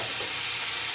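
Paste of onion, green chilli, ginger and garlic sizzles loudly in a hot wok, a steady dense hiss close to the pan with no pause.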